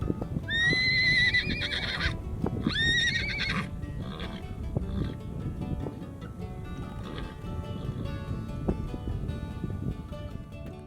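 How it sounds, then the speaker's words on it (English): Wild Onaqui horses, a mixed herd of buckskins, sorrels, roans and pintos, give two loud, shrill whinnies early on, followed by continuous clopping hooves and shuffling movement nearby. "So many beautiful horses."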